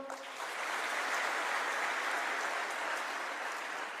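An audience at a motivational talk claps steadily, a dense even wash of applause that starts abruptly and holds for several seconds, moderately distant and without talk.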